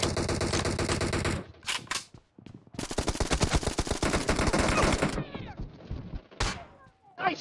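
Rapid automatic gunfire in the battle-royale shooter PUBG Mobile, loud and close, in two long sustained bursts separated by a few single shots, ending with scattered shots and echoing tails.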